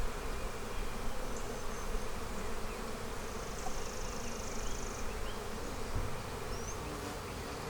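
Honey bees buzzing all around an open hive box, a continuous dense drone from many insects close up, with occasional individual bees whining past.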